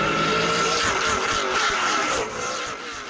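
Race cars roar around a Saturday night short track in Ona, West Virginia, a dense, continuous engine drone with shifting pitch as several cars pass, loud and sustained with no talk.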